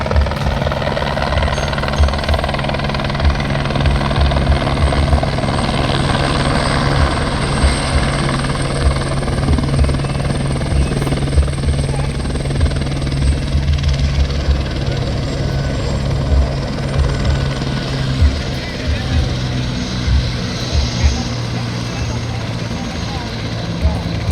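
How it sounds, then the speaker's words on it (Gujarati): A loud, continuous helicopter engine and rotor roar, close by and steady throughout, at a Makar Sankranti festival in Hanol village, India, with a voice faintly audible underneath. "નજીકથી તમને હેલિકોપ્ટર દેખાડું"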